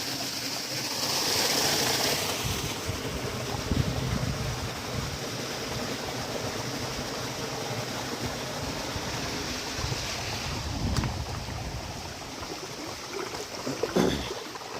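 Steady rushing water fills the whole stretch, a constant broad wash with some wind-like roar and a few faint knocks near the end.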